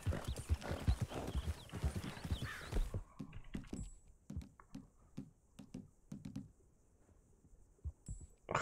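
Horse hooves clip-clop in Red Dead Redemption 2, a dense run of hoof beats over the first few seconds, then sparser, spaced steps with a faint high tone in the background.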